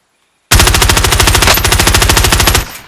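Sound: gunfire in a video game

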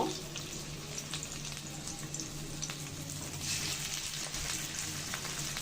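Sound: shrimp fritters frying in hot oil in a pan

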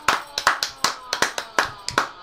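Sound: hand clapping

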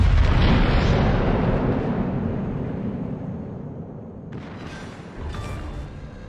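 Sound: torpedo hitting and sinking enemy destroyer in video game

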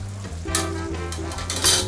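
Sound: sofrito with squid ink sizzling in pan

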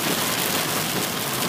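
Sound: rain pouring against the studio windows

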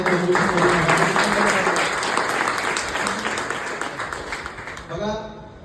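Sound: audience applauding loudly

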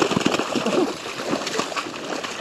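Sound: king salmon splashing in river rapids

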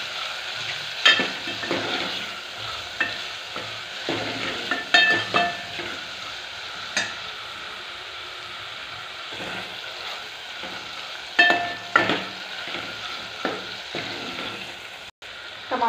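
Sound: stirring red chili powder into frying dal tadka

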